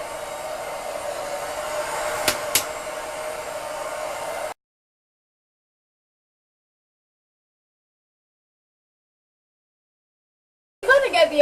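A hair dryer fitted with a diffuser, drying curly wavy hair, roars with a steady loud whoosh for several seconds, then cuts to silence before a voice returns briefly at the end.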